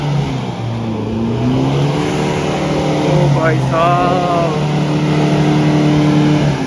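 An old Mahindra Thar stuck in mud during an extreme offroad tow drones loudly and steadily, its engine pitch climbing briefly mid-way in a rev, while a man calls out over it.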